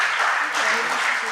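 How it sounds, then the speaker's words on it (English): Quiz show audience at a junior science and maths national championship gives brief, steady applause for the contestants, a short dense burst of clapping. "A round of applause for my contestants."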